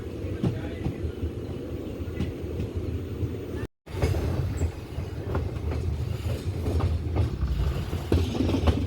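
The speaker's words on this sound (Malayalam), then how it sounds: "ഒട്ടൻചത്രം റെയിൽവേ സ്റ്റേഷനിലേക്ക് ട്രെയിൻ എത്തിക്കൊണ്ടിരിക്കുകയാണ്." The Amritha Express rolls into Oddanchatram railway station with a continuous rumble and rhythmic clickety-clack of wheels heard from on board, broken by a brief dropout midway, with faint voices in the background.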